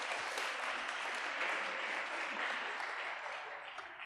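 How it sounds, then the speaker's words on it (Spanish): An audience breaks into sustained, dense applause at an evening church gathering, steady and fairly loud throughout before easing slightly toward the end. "Un aplauso, por favor."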